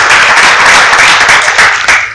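Loud, sustained applause from a seated audience at a public gathering honouring new donor trustees, dense steady clapping filling the hall without break.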